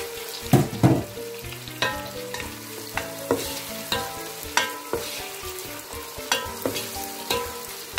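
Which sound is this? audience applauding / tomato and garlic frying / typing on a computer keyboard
tomato and garlic frying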